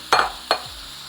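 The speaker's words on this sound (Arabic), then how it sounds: "هلا بنستناها لتحمى شوي المقلايه وبننزل عليها بالدجاج فرد دفعه" Chicken pieces dropped into hot oil in a frying pan give two quick sizzling bursts close up, then a steady low crackle of frying with no talk.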